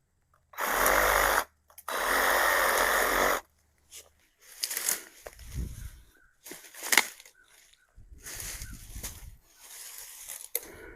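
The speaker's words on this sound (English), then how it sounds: "it's like a pruning blade, but it's a wood cutting blade, but you can use it to prune plants and stuff" A saw fitted with a wood-cutting blade prunes plants during a property cleanup. Two loud sustained cutting bursts are followed by irregular, rasping strokes and rustling, fairly close.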